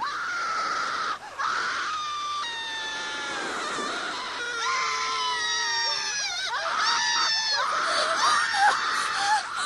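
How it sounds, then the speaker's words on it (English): Shrill, wavering screams rise and fall continuously over a dense, eerie background at midnight in a cemetery, loud and sustained throughout with overlapping voices. "Then the screams began."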